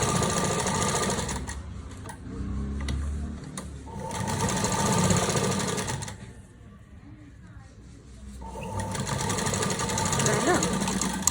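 Sewing machine stitching a lining onto velvet fabric, running in loud, steady bursts with a short pause near the middle before resuming.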